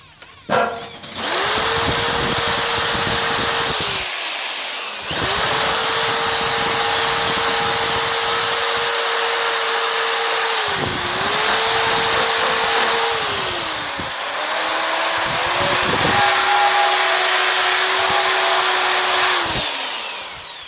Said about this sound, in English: the angle grinder, as I said, gives you more control